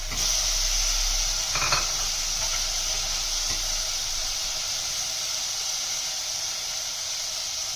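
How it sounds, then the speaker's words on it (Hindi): Tomatoes stirred into masala in a pan for a stuffed tinda dish, giving a steady, loud hiss of frying that runs unbroken, with a brief scrape of stirring near the start and no voices. "उसके बाद हम इसमें टमाटर शामिल कर रहे हैं।"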